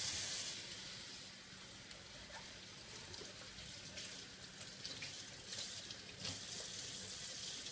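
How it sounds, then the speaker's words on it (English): Water runs from a kitchen tap as food is rinsed beneath it, a soft, steady hiss with faint splashes and occasional brief bumps. "I just rinse it off."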